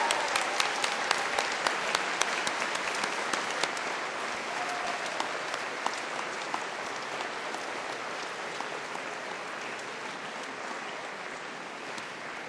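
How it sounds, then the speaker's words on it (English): A graduation ceremony audience at Cardiff University applauds with dense, sustained clapping that fills the hall, steady and loud for the whole stretch and slowly thinning toward the end. "giving them all a big round of applause and a huge cheer"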